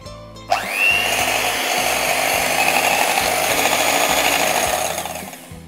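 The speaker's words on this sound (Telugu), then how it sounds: "ఇప్పుడు ఎగ్స్ 2 eggs తీసుకుని వీటిని బాగా బీట్ చేసుకోవాలి." An electric mixer beats two eggs for a cake batter, switching on abruptly and then running as a loud, steady whirring whine close by for about five seconds before it begins to ease off.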